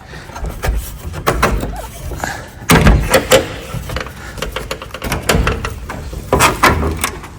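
Stiff hinges on a lightweight greenhouse door squeak and creak as the door is worked back and forth, a series of short scraping squeals close by, with a person talking between them.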